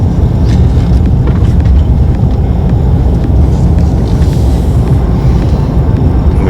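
A car rolls slowly through a drive-through household electronics and chemical collection center at a county solid waste facility, with a steady low road and engine rumble and wind buffeting the microphone throughout. No one speaks.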